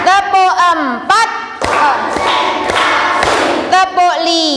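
A classroom of students claps on a teacher's cue, sharp claps falling in an irregular pattern. Group voices chant and call out around the claps, and a busier stretch of clapping and noise fills the middle.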